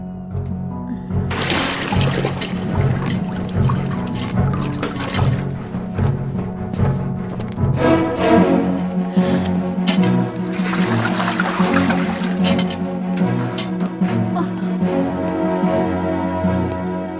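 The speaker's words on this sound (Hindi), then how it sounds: "जाओ इसका मटका पानी से भर दो।" Water pours steadily into a clay pot in an animated cartoon, a continuous splashing gush under a sustained tonal backdrop.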